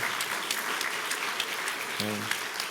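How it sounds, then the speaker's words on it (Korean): A church congregation claps in welcome for an engaged couple at a Sunday service, a steady wash of many hands throughout, with a brief voice rising near the end. "우리 환영의 박수 한번 했으면 좋겠습니다"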